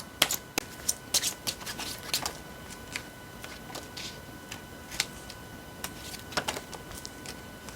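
Tarot cards are shuffled and dealt out, a quick run of crisp slaps and flicks, some in bursts and some spaced apart, all close and fairly quiet against a faint steady background hum.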